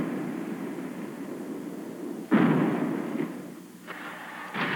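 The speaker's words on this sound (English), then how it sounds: "Artillery is still used to start avalanches, but for a different reason." An artillery gun fires on a mountain slope to set off an avalanche: one sudden heavy boom breaks over a steady rushing noise and rolls off into a long fading rumble.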